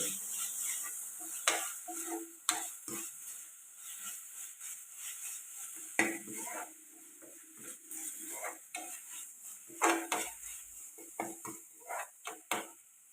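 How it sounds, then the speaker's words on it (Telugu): Chopped tomatoes sizzle softly in a pan for a dried fish tomato curry, broken by repeated scraping and clinking strokes of a spoon stirring against the metal, close and clear with no talking. "టమాటా పచ్చివాసన పోయేదాకా ఫ్రై చేయండి"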